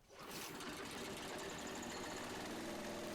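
A stump grinder's small engine runs steadily after starting, a loud, fast, even chatter with a rough mechanical buzz that holds constant throughout.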